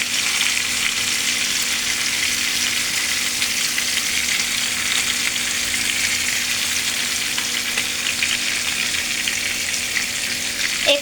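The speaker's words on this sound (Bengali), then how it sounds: "মাছটা ভালোভাবে উল্টে পাল্টে ভেজে নেব।" Fish pieces frying in oil in a pan as they are turned, giving a loud, steady sizzle that runs unbroken throughout with occasional soft scrapes and no talking.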